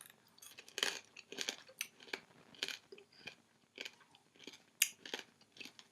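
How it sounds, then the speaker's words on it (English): Someone crunches and chews a pork scratching up close, with a run of sharp, irregular crunches and snaps as the skin breaks, followed by softer chewing, with no talking. "You probably heard that quite intense snap there as I went through the skin."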